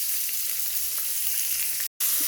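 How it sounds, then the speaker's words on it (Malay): Chopped onion and garlic sautéing in hot oil in a pan, a steady bright sizzle throughout with a brief dropout near the end, no voices. "Bawang dan juga bawang putih ni kita akan tumis seketika sampai dia naik bau lah"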